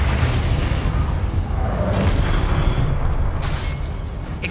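Confringo explosive spell blasts in the Hogwarts Legacy video game, a loud continuous rumbling boom with bursts and whooshes rolling through the whole stretch, no voices.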